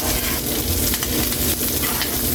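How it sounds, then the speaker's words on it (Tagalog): Green chili peppers sizzle and crackle loudly in a hot pan with pork steak cooking, while a utensil stirs them in quick scraping strokes; no one speaks. "Lagay natin yung siling green."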